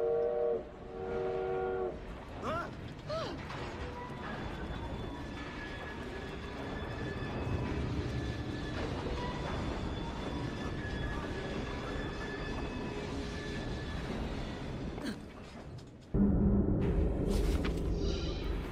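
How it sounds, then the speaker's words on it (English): Steam-era train in Assassin's Creed Syndicate, a steady rumbling roll of wheels and carriages with long sustained whistle or horn tones over it, fairly quiet overall, ending with a short louder burst. "We fixed up the train for you"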